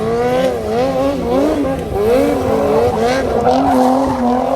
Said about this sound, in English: And this is the big one, the donuts.